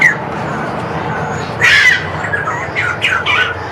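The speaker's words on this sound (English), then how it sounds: "This is Australian magpies." Australian magpies in an aviary squawk in several loud, harsh bursts that repeat at irregular intervals over a steady low background hum.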